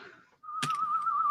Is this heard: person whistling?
yes